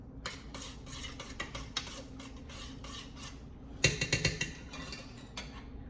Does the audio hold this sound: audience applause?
no